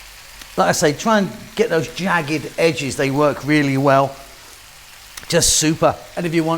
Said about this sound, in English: Excuse the noise, I'm cooking some fantastic cabbage here.